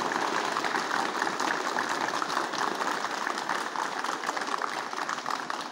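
A school audience applauds to welcome a guest at a stationery distribution event, steady dense clapping filling the room at an even level for the whole stretch, with no voices rising above it.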